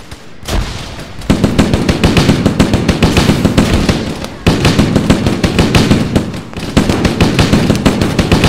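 Frag grenade blasts in Arma 3, two heavy booming explosions followed by dense rattling gunfire, loud and close with no talk.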